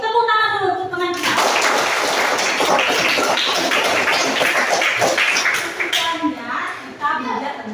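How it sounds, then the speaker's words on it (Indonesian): Students in a classroom applaud a classmate for about five seconds, a dense burst of clapping between a teacher's speech before and after. "Tepuk tangan dulu untuk teman kita."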